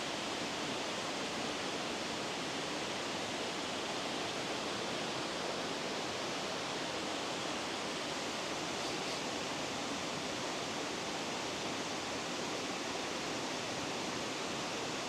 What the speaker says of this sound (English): Okay, and then waterfall.